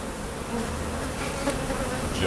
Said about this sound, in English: And nicest bees I've ever encountered.